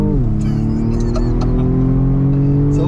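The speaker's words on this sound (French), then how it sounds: "Bah, on sent que c'est du 4 cylindres." A BMW M135i F40's four-cylinder engine pulls steadily under acceleration, a loud, continuous drone with strong low harmonics rising slightly in pitch as it revs, heard from inside the car.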